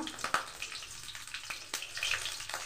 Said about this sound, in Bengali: কড়াতে আমি আবার সর্ষের তেল দিয়ে দিয়েছি। তেলটা গরম হয়ে গেছে। এবার আমি দিয়ে দেবো তেজপাতা, এবার আমি দেবো কাঁচা লঙ্কা